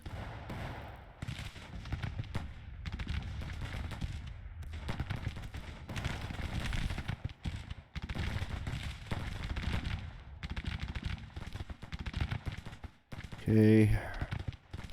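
Irregular battlefield gunfire crackles through Grand Tactician, with volleys and scattered shots at moderate distance under ongoing talk, plus a short tonal interface chime near the end.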